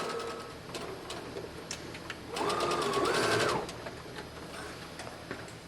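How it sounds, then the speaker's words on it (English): A sewing machine stitches a seam on a doll dress, a soft rapid mechanical whir lasting about a second, preceded and followed by faint clicks and handling noises. "I'm going to start our stitch, and I'm going to reverse, and then I'm going to go right along"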